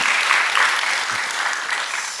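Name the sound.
audience applause in church service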